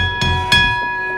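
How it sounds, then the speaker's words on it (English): A ring bell at a wrestling event strikes twice in quick succession, bright sustained tones ringing out loudly over crowd noise. "That bell ring was much better than the first match."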